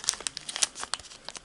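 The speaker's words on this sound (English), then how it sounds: "Unfold, and now let's reverse it inside, fold it inside on the existing crease." Paper crinkles and crackles as it is folded into origami chicken nuggets, a rapid series of close, crisp rustles and snaps.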